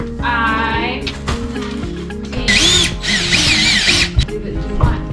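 A power drill whines in several short bursts, rising and falling in pitch, with people talking close by between and over the runs.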